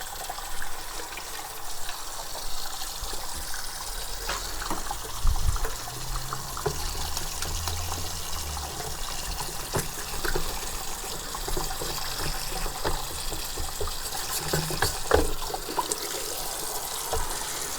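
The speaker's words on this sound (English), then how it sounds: "Don't be afraid to use tap water in order to clean your filter head" Tap water runs and splashes over an Eheim Experience 250 canister filter head during cleaning, a continuous close trickle and gush with irregular splatters and surges.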